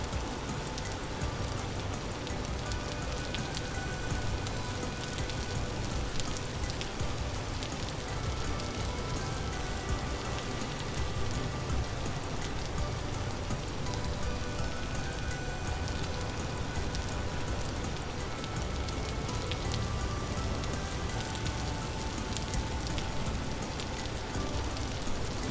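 Steady, dense rain hisses without pause in the video game Vintage Story, an even wash of drops pattering on surfaces at a constant level with no voices over it.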